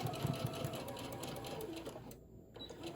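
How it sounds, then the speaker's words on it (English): A sewing machine running continuously while sewing a craft bear's body, a close steady mechanical chatter that cuts off briefly near the end. "I'm going to sew the rest of the way"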